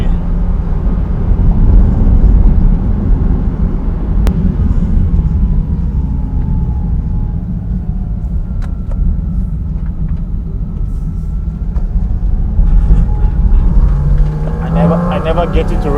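Porsche Cayman GT4 RS engine driven hard on the Furka and Grimsel mountain passes in the Alps: a steady, loud, deep engine drone heard from inside the car, rising at times, with faint higher whine near the end.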